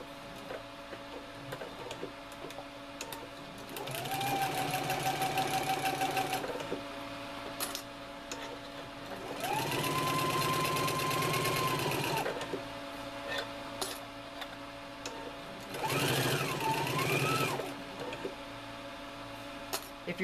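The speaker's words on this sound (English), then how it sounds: "I'm starting at the bottom of the sleeve. I put my needle down like that. I'm going to go a couple of stitches." A sewing machine stitches along a jacket sleeve in three separate bursts of fast, steady whirring, with quiet pauses between runs and soft handling sounds.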